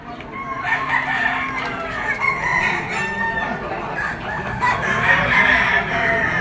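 Chickens cluck and a rooster crows nearby amid a busy farmyard of overlapping fowl calls in Padre Garcia, Batangas, moderately loud and continuous.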